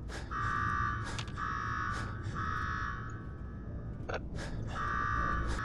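A repeating alarm in Fallout 4: Nuka-World blares as a steady electronic buzz in long, evenly spaced pulses, loud and alone with no talk.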